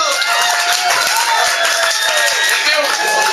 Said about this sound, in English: Give Chris a round of applause, why don't you?